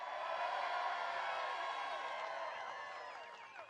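Campaign rally crowd in Michigan cheering with a broad sustained roar and whoops that slowly fade toward the end.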